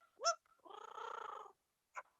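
A person imitates a cat with a rising meow-like cry and then a purring, rolling sound lasting almost a second, ending with a short squeak. The voice is close and clear, with no other talk.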